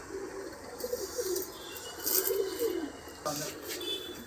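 Pigeons coo in soft, repeated rolling phrases close by, several low burbling calls overlapping across a few seconds, with a bit of background murmur.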